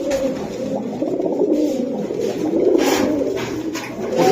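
Aluminium silver pigeons coo continuously up close in low, rolling throaty calls, several birds overlapping without any talk.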